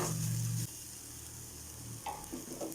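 Stirring salt into raw banana podimas in a pan, with a soft scraping sound early on, then a few quiet spoon taps and scrapes against the pan over a low background hum.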